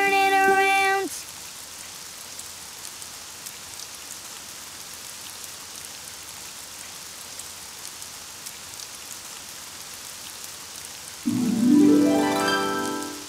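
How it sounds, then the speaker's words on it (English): Cartoon rain falls outside as a steady, soft hiss across the whole scene, with brief musical tones at the start and end. "Oh, it's raining outside."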